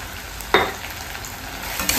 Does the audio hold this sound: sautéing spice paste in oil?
yes